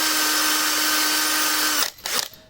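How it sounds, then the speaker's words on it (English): A power drill whirs steadily while widening a drilled hole in a Warlord Titan miniature model, running loud and constant before cutting off with a couple of short bursts at the end. "I'm going to take the drill and going to move it around."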